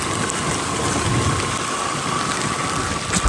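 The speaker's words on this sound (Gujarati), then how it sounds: "બહુ જોરદાર વરસાદ આવે।" Heavy rain pours down in a dense, steady hiss that stays loud and unbroken throughout, with a faint low rumble beneath it.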